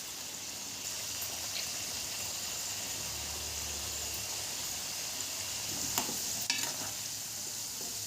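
Amla pickle is stirred in a pan, a steady close scraping and sizzling texture running evenly throughout with a couple of slightly louder scrapes near the end and no voices.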